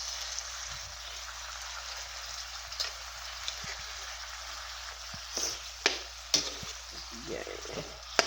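Sardines and fresh vegetables sizzle and fry steadily in a pan, with scattered scraping clicks from stirring rising through the second half; no one speaks.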